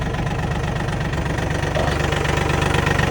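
Yanmar 33 hp tractor engine with cab idling just after starting, a steady close, loud diesel chug with a regular low knocking pulse throughout.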